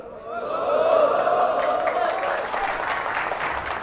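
Applause from a crowd gathered in a mosque during an Islamic sermon, a dense, loud clatter of clapping that swells and holds for several seconds, with a voice faintly audible over its start.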